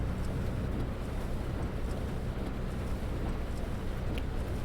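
MAN Lions Coach third-generation engine in Fernbus Simulator holds a steady low drone at about 1700 RPM in 11th gear, a constant rumble with road and wind noise and no speech.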